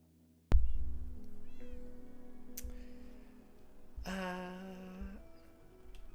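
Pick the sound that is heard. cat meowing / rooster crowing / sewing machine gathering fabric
cat meowing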